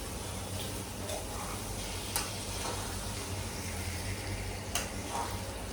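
Fish curry (bommidayala pulusu) stirred gently in a pot, a soft continuous simmering sizzle with occasional faint ticks of the spoon, close and quiet.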